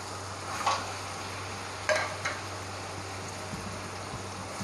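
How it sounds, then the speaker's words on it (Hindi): Ridge gourd curry being stirred with a spoon in a pan, a faint soft sizzle with a few brief scraping clinks over a low steady hum. "इसको चम्मच से अच्छी तरह हिलाकर 2 से 3 मिनट के लिए इसको ढक देंगे"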